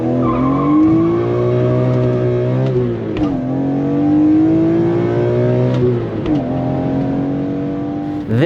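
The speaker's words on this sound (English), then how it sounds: "This high revving, high compression, naturally aspirated 3-liter straight-six engine is a blast to drive." A BMW M car's high-revving, naturally aspirated 3-liter S54 straight-six engine is driven hard, rising through the revs with loud shifts, close and alone.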